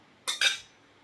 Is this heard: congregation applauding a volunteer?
no